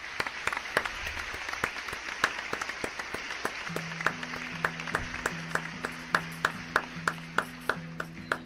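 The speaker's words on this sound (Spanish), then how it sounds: "Es que no tengo más que aplausos." Rhythmic applause from a single person, closely miked and moderately faint, with steady evenly spaced claps in a game setting as a soft musical tone plays underneath.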